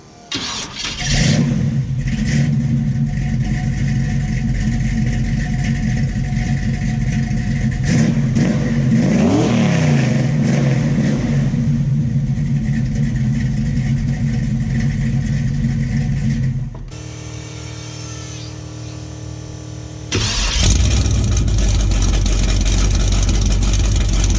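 A 600-horsepower big-block El Camino roars loud and close through open headers, starting up and revving hard with swelling throttle blips, then briefly quieter before the raw bark returns.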